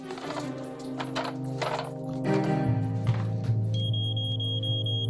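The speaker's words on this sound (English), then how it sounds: "We hear the smoke detectors go off." A high electronic smoke detector alarm beeps steadily indoors at night, starting partway through over a low hum and some household clatter.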